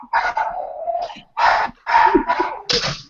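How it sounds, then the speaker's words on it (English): A dog barks in several sharp, loud bursts close by, separated by short pauses, with no other sound between them. "We just have a barking dog."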